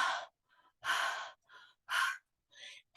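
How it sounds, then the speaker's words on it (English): Heavy breathing after running comes close and loud as a series of sharp, breathy gasps and exhales, about four strong breaths with softer ones between them, in otherwise silent surroundings. "It sounds like you've been breathing hard after running."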